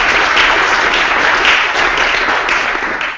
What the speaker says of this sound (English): Let's give a round of applause for welcome to the stage.